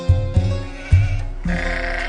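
Sheep bleat loudly and close by in several quavering calls, one after another, over a steady background drone with no talk.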